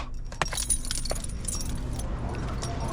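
Keys jangle in a close, brief rattle of metal clinks with a few sharper taps, heard alone against a low steady hum inside a car.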